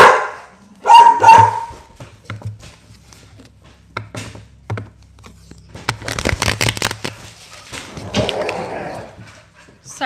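Several dogs bark at the neighbors in a home, with bursts of sharp close barks, a flurry of rapid yapping mid-way and some whimpering, while someone talks over them.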